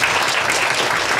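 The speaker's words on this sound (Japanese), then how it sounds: "ぜひおいのさんに拍手いただきます" A brief, steady burst of audience applause at a mahjong pro league fan festival, a dense wash of clapping from a crowd lasting just over a second.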